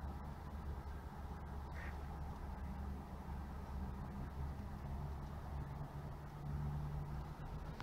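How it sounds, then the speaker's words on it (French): Ducks quack faintly in the distance over a steady low rumble of outdoor ambience, the calls sparse and barely standing out. "Les canards veulent pas venir me voir, ils sont pas gentils."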